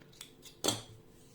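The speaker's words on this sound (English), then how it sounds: "making 1 chain and closing and cutting the yarn." A single close snip of scissors cutting crochet yarn, preceded by a couple of faint lighter clicks, in a quiet room with no talking.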